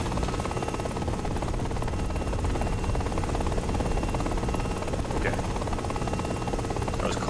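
A helicopter in a video game drones and whirs steadily throughout, its rotor and engine hum constant and loud, with a faint voice murmuring underneath.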